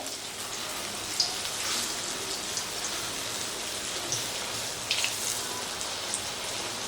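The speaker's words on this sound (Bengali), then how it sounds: "তো আরেকটা দিকও আবার ভালোভাবে ভাজা হোক।" Steady, dense sizzling crackle of raw banana koftas shallow-frying in oil, continuous throughout with a few sharper pops, no voices.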